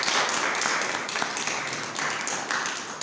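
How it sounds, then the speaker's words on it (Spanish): A church congregation applauds in a continuous, dense patter of clapping that stays even and fairly loud throughout, with no clear voices on top. "Un fuerte aplauso al Señor Jesucristo."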